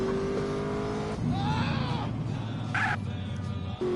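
A car driving in GTA San Andreas: a steady engine drone with revving and a brief tire squeal, loud and close, continuing without talk.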